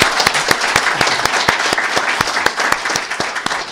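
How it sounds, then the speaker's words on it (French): An audience at a radio broadcast event in Côte d'Ivoire applauds the mayor of Diko-Dougou, with sharp individual claps standing out over a steady bed of crowd clapping, loud and continuous. "On a la chance d'avoir à nos côtés le maire de la commune de Diko-Dougou, M. Sora Abdraman, qu'on va applaudir très très fort."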